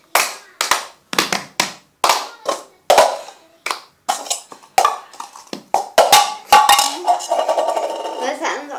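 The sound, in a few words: cup song rhythm clapping and tapping cups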